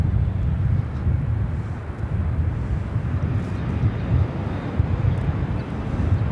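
A Boeing 737 MAX 8 airliner at LAX airport gives a steady, loud low rumble of jet engine noise with some wind buffeting, sustained evenly without a break.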